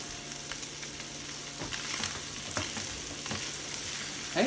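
Pancetta crisping in a very hot pan, a continuous close sizzle dotted with sharp pops and crackles scattered irregularly throughout, fairly quiet overall and without any voices.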